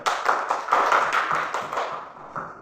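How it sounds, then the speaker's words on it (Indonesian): A small classroom group claps for a student named Putri, a short burst of brisk, close clapping that thins out and fades after about two seconds. "tepuk tangan untuk Putri"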